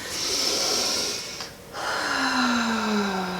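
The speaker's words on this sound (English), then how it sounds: "you do that nice, slow, deep, rhythmic breathing" Slow, deep breathing through a labor contraction: a long, soft airy breath, a short pause, then another breath, close and quiet with no talking.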